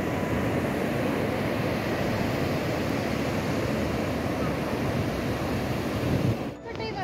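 Sea waves and surf wash onto Ganeshgule beach in Ratnagiri, a steady loud roar of breaking water mixed with wind buffeting the microphone, continuing almost unbroken before dropping off near the end.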